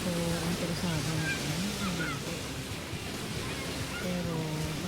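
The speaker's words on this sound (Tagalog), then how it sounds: "naririnig mo yung yung hampas ng alon dyan sa buhanginan, diba?" Ocean waves wash steadily onto a sandy beach at Panglao, a continuous broad surf roar with someone talking over it.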